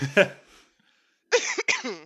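A single cough-like burst, then a pause and a couple of hoarse voiced bursts close to the mic, sounding like coughing mixed with a laugh.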